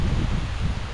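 Strong wind gusts roar and rustle through leaves in a rural orchard, a loud, continuous buffeting close to the microphone with no voices.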